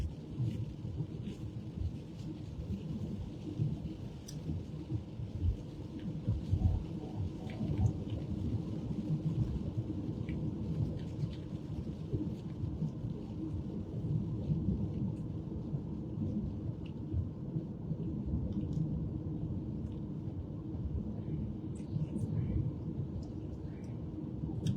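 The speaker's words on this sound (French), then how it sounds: "Il pleut beaucoup ici. Enfin, il y a une pluie énorme." Heavy rain pours steadily and close by in Flanders, a dense, continuous broadband wash with occasional low rumbles, no speech over it.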